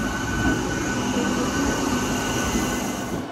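A MEMU train running out of Katpadi toward Arakkonam rumbles steadily and loudly from inside the carriage, a dense continuous roar with faint high wheel whine and no voices.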